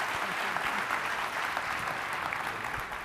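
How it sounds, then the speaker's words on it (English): A crowd at a healthcare quality conference applauds its center directors with a continuous, dense wash of clapping that holds steady at moderate volume for about three seconds. "please join me in giving a round of applause for our center directors"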